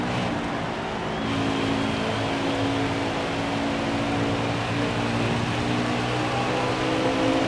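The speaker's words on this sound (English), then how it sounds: "Listen to my car to go into these corners." Racing car engine in the NASCAR Heat video game at Bristol, a loud sustained drone that swells and eases slightly as the car goes into the corners, with no talk.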